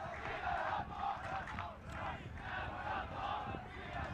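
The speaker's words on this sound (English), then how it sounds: "As we hear the classic chants of "We have got the ball" from Sockeye." Seattle Sockeye's D-line shouting their 'We have got the ball' timeout chant at the 2019 ultimate national championship men's quarterfinal, a rhythmic group cheer rising and falling over loud crowd noise.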